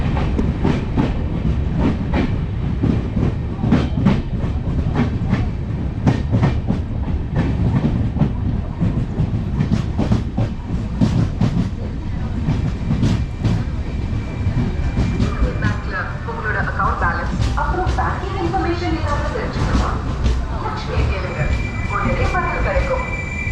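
The Lokmanyatilak Karaikal Weekly Express runs on rails with a loud, steady rumble and rhythmic clickety-clack of wheels over joints, and squealing wheels rise toward the end.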